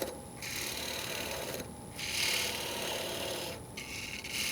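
A wood gouge cutting a wooden mortar spinning on a lathe, giving a continuous close scraping rasp that pauses briefly twice as the tool lifts and re-engages.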